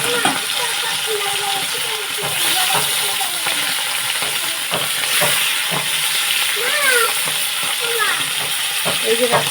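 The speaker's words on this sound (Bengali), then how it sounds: "মাছগুলো দিয়ে দিচ্ছি একটা করে।" Fish pieces frying in oil in a kadai, a constant loud sizzle with occasional stirring scrapes and clinks, as someone talks over it.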